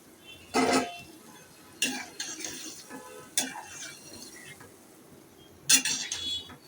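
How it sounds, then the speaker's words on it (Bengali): Fish being stirred in a cooking pan, with several separate scraping and clattering bursts of utensil against pan spaced over a few seconds, nearby and fairly loud, with quiet background between. "মাছগুলো আর নাড়তে পারবো না তো এখন নেড়ে দিচ্ছি"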